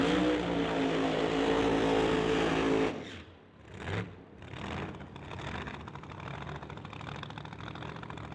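A 2015 Corvette drag race car backing up before a run, its engine idling loudly with a deep rumble, then a sharp drop followed by a couple of blips and a rougher, lower idle.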